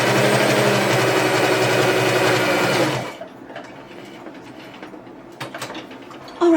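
A sewing machine stitches scrap fabric for a Christmas potholder in one loud, continuous whirring run of about three seconds, then stops, leaving quiet room sounds with a few light taps and rustles.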